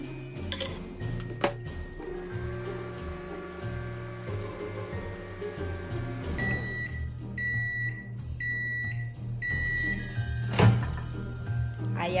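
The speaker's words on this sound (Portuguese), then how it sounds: "só não caga o micro-ondas, Yasmin" A microwave oven heating ganache hums steadily with a low tonal drone, clinks and a door sound, then a sharp beep near the end.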